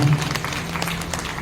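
Loud, steady applause from an audience at a Shrimad Bhagavat Katha religious gathering, dense clapping that continues through the whole stretch without a break.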